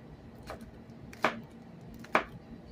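A kitchen knife slices through onions on a board, giving two sharp chopping strikes and a fainter one, spaced apart, close and clear over a quiet background hum.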